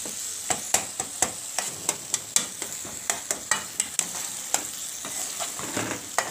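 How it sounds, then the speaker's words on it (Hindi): Softened tomatoes and masala roasting in a pan while being stirred, a constant sizzle punctuated by frequent regular clicks and taps of the spoon against the pan, close by, with no talking. "मैं ज़रा इसे अच्छी तरह से भून लूँ।"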